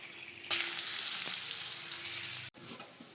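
Whole spices (bay leaf, cloves, mace) dropped into hot oil left from frying fish for a Bengali katla fish curry, bursting into a loud steady sizzle that cuts off abruptly and resumes, close up with no talk.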